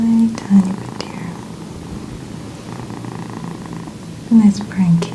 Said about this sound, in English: A nice brown kitty to help soothe you as well. I do like that sound.